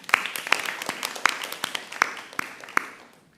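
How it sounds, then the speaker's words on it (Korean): Worshippers at a Friday church service clap in an even rhythm, with sharp regular claps ringing in the room before fading out. "박수 한번 하십시다"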